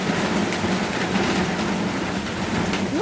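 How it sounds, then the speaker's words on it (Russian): Rain beginning to fall outdoors, a steady broadband patter and dripping that stays constant throughout, with no voices. "и дождь повернулся, и начинает у меня уже тут тоже капать и шлепать"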